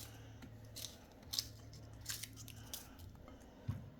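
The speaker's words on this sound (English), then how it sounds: "we have the okra here, and I'm just gonna cut them in" A knife slices okra into bite-sized pieces in a home kitchen, giving a few sharp crisp cuts and soft taps spaced irregularly over a faint low hum, quiet and close.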